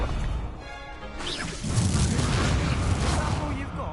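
A fire spell cast in Hogwarts Legacy, with a steady roar of flame and crackling that swells suddenly partway through and stays loud and close to the end.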